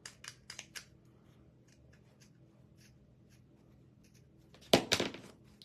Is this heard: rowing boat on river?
no